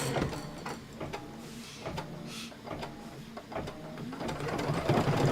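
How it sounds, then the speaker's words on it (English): An embroidery machine stitches out a stem design for a pillow, giving rhythmic mechanical thumps and whirring at an even pace, close by and moderately loud. "While it's stitching out the stem"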